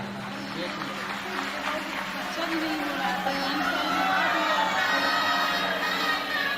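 A live audience at a Hindu religious gathering devoted to Shiva claps in sustained, dense applause with crowd chatter, growing slightly louder toward the end.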